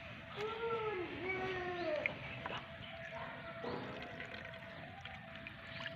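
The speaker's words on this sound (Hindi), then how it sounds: "अब इसमें नया पानी डाल देते हैं।" Fresh water is poured into a pot while making rose water, producing a steady splashing, gurgling pour throughout, with a few brief tonal squeaks and background sounds early on.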